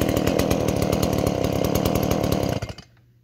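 A small, easy-starting chainsaw used for harvesting bow staves runs loud and close as it warms up after being started on the ground, with a steady buzzing engine drone that cuts off near the end.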